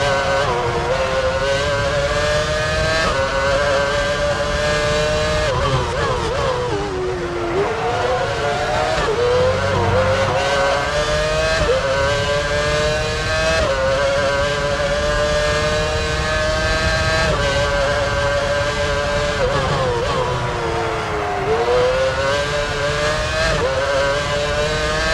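Formula One race cars at Silverstone in Formula One Championship Edition on PS3, including Juan Montoya's McLaren: a loud, steady, high engine whine with repeated pitch drops at gear shifts and braking, running continuously.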